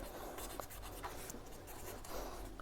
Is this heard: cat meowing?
no